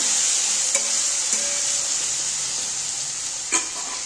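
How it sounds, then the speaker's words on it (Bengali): Potatoes sizzle in hot oil seasoned with salt and turmeric, a close, steady frying hiss broken by a few light spatula taps and stirs, with no talking. "এবার আমি আলুটা একটু ভালো করে ভেজে নেব"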